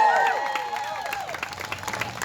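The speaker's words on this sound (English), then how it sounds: "Once again, give yourselves a huge round of applause for being here today." A crowd at an outdoor MayDay rally in Newton, New Jersey applauds in a steady, moderately distant wash of clapping, with a voice trailing off at the start.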